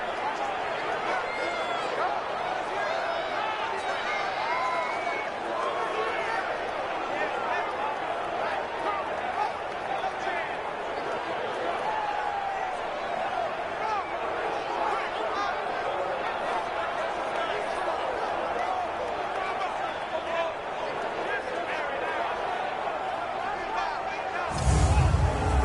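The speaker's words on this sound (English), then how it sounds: "Listen to this crowd now." A stadium crowd roars through a tense 2-point conversion late in a Steelers at Colts NFL game in Indianapolis, a sustained, distant wash of cheering under a commentator's voice.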